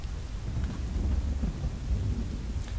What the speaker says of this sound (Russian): На фоне дождя.